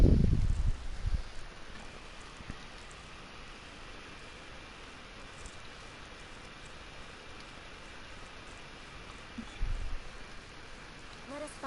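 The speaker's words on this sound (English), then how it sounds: "Let us find shelter from the rain." Steady soft rain hisses across the whole stretch in a Genshin Impact game world, a broadband patter with no breaks, with a couple of brief low thumps near the start and toward the end.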